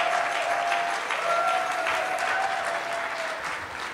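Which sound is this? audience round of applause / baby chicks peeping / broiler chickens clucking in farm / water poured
audience round of applause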